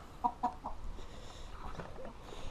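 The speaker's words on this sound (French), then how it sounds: "Alors ici j'ai 2 poules qui sont en train de pondre." Laying hens, a Bresse hen and a Pekin hen, give a few soft clucks close by at the start, then fall to quiet rustling in the coop.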